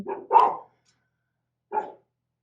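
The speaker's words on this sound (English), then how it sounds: "Sorry if you hear my dog" A dog barks twice in quick succession, pauses, then barks once more, close and clear against silence.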